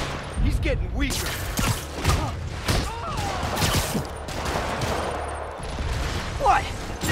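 Rapid rocket and gunfire barrages with thudding impacts during a Spider-Man Remastered boss fight against Wilson Fisk, dense and continuous with overlapping blasts and a voice talking over the din.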